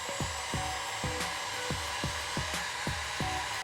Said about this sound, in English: you're either gonna need a heat gun or you could use a hair dryer